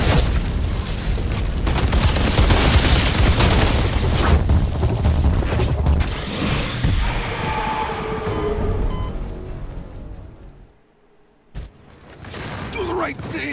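Grenade explosions in Outriders, heavy booming blasts and rumbling debris over dense combat noise that fade into near silence before a final sharp bang.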